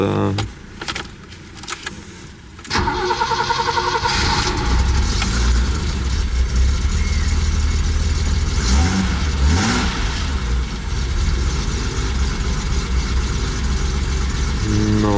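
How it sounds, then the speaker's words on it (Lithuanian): A few clicks and rattles, then the cold engine of a BMW E30 cranks and catches, settling into a loud, rough idle with occasional revs; a voice talks faintly at moments. "Šaltas variklis."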